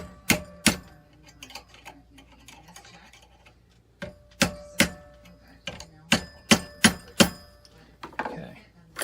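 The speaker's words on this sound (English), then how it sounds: "I use them as the buffer between my hammer and hitting this top piece here." Sharp metal taps of a hammer striking flat pliers held as a buffer over a fork being shaped into a twisted ring, two quick blows early, then a denser run of about nine strikes, loud and close over faint room noise.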